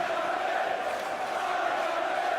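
A darts arena crowd at a Premier League of Darts match roars and cheers in a steady, dense wash of massed voices throughout, loud and continuous.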